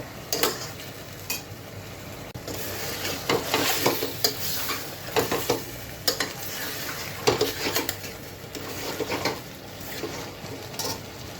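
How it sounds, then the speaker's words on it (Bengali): Chicken korma sautéing uncovered in a pan while being stirred: a constant close sizzle with repeated metal spoon scrapes and clinks against the pan, in an uneven rhythm throughout, with no talk. "এখন আর ঢাকনা দিব না ঢাকনা ছাড়াই এভাবে কষিয়ে নিব"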